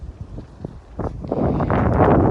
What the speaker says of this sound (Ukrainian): Вітер. Вітер не знаю буде, чи мене чутно.